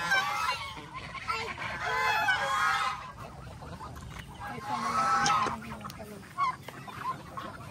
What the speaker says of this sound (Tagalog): Nakakatuwa na yung mga gansa.